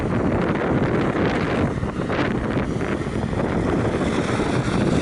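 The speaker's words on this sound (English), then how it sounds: "It's very windy." Strong wind buffets the microphone in a constant, loud roar with gusty rumbling throughout and no talking.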